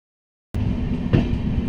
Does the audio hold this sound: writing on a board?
no